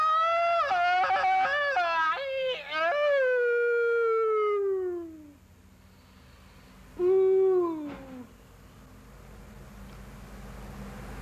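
A human voice imitates a sad jackal's howl, with long wavering rising-and-falling cries followed by a pause and one shorter howl, loud and close with no other talk.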